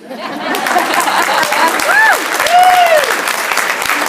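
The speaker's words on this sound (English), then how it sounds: "I think that deserves a standing round of applause." Applause from a workshop audience fills the room, a steady dense patter of many hands clapping, with a few shouts and whoops rising over it.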